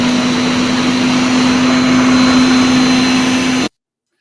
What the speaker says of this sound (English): I just realized this sounds a little like a vacuum cleaner.